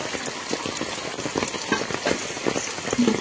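Steady rain patters and hisses on plastic sheeting spread to catch rainwater, a dense continuous spatter with scattered louder drops.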